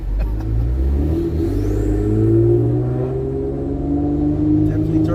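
Car engine with twin turbos spooling up as it revs, suffering a boost leak; a loud, steady mid-pitched drone with rising whine rolls on continuously throughout, close and dominant.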